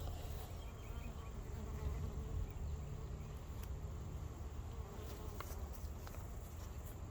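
Honey bees buzzing around an open hive in October, a continuous low drone with occasional louder passes as individual bees fly close to the microphone.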